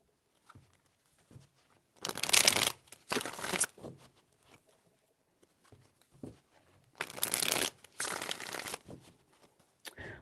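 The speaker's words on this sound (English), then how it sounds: "Four Shuffles" A deck of tarot cards is riffle-shuffled up close in four loud, crisp bursts of rapid flapping, each lasting about a second, with quiet pauses and soft handling taps between them.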